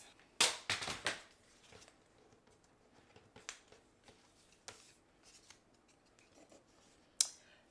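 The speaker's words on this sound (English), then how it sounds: "let's cut them in half" Scissors snip card-making paper strips in half, a few quick close crisp cuts at the start followed by faint handling rustles and one more sharp snip, with no talking.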